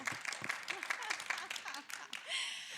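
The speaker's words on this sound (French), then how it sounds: "Est-ce que les femmes présentes peuvent applaudir" A handful of women applaud in a small conference room at a gaming and web3 talk, sparse uneven claps close by, overlapped by people talking.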